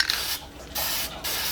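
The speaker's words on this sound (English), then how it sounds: "if you use spray paint like I did" Spray paint hisses from an aerosol can onto wooden 2x4 game pieces, three long bursts broken by two short pauses, loud and near with no voices.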